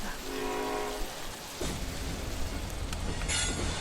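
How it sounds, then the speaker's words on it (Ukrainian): Electric commuter train rolling past in the distance on an evening of rain, a steady rumbling wash with a brief horn-like tone near the start and continuous low noise throughout. "Десь у далечині проїжджає електричка."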